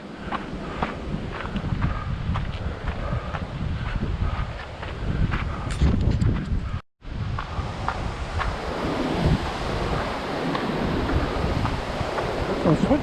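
Strong wind on a coastal trail roars and buffets the microphone steadily at fairly high volume, with a rushing, surf-like texture. A momentary dropout interrupts it partway through before the gusting resumes.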